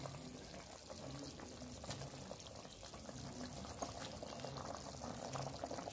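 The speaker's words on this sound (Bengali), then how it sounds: "বন্ধুরা মাছটা ফুটছে দেখুন টক করে" Fish curry (kalta machher jhol) boils in a pot with a continuous soft bubbling and gurgling. It stays quiet and close, with a few faint clinks.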